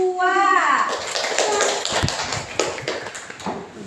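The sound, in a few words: classroom applause, clapping hands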